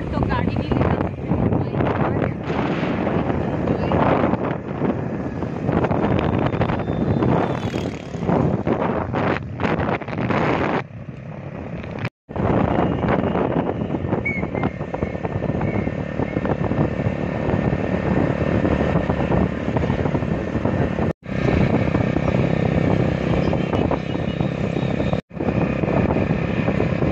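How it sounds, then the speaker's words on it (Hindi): A motorbike ridden on the road, its engine droning steadily under heavy wind buffeting across the microphone, loud and continuous, with brief dropouts. "तो फ्रेंड हम जा रहे हैं बाइक लेके,"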